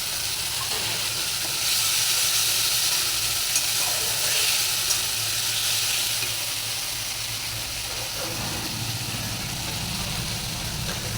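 Masala sizzling steadily in a hot pan as a splash of water goes in, a continuous close frying hiss that swells briefly and then settles, with no one talking.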